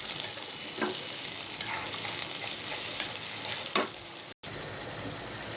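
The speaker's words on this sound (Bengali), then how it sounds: "এই যে পেঁয়াজটা একটু ভাজা হোক" Steady crackling sizzle of onions frying in a pan, continuous and close, with a few scraping stirs and a brief dropout near the end.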